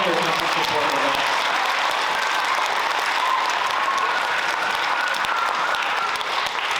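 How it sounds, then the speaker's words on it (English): An audience at a school band concert applauds in a dense, steady burst of clapping that holds loud and even throughout, fading slightly at the very end. "Another big round of applause for Mrs. Soroyce and Mrs. Selena"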